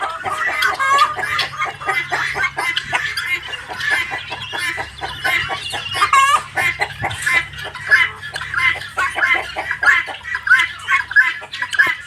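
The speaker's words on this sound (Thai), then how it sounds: "บรรยากาศที่ฟาร์มของเราครับ" Dense clucking and squawking from many breeder chickens on a poultry farm fills the air continuously, a busy, loud chorus of poultry with a faint low hum underneath.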